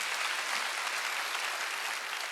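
A church congregation at a Sunday worship service claps together, a dense, even burst of applause filling the room at steady volume without voices over it.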